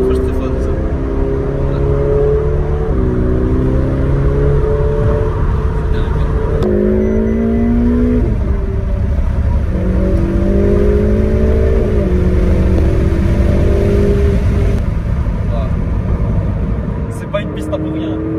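Ferrari 488 Pista engine revving loudly and continuously, its pitch climbing and dropping through gear changes, with tires gripping hard on a circuit; the roar stays close and dominant throughout with a voice talking faintly underneath.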